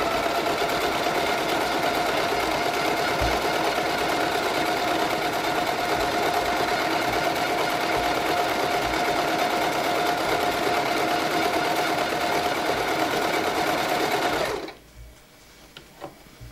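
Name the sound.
Silvercrest sewing machine sewing a decorative stitch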